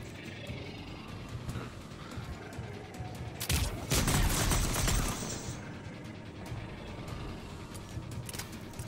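Gunfire in Mass Effect Legendary Edition, with a dense loud burst of rapid shots in the middle of the clip rising above steady game background noise and quieter stretches on either side, with no talking.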